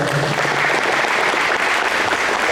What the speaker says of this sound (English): Let's give Farm Bureau Insurance a round of applause as well.